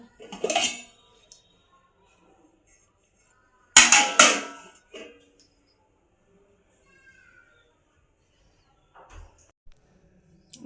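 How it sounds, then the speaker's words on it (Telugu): Dishes and cooking vessels being scrubbed and washed in a home kitchen, heard as two short clattering bursts of metal pots and plates a few seconds apart, with quiet gaps and faint knocks between them. "గిన్నెలోనే తోమేసా నీట్గా"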